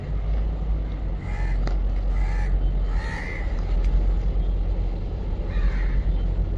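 Crows caw outdoors in several harsh, separate calls at moderate distance, set over a steady low rumble of background noise.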